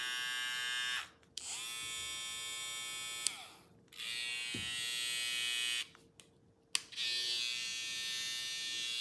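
Cheap plastic cordless hair trimmer, either a BaByliss GoldFX Boost+ or a Stylecraft Saber, switched on and off several times, giving a bright steady electric buzz in bursts separated by short silences and clicks, close and alone.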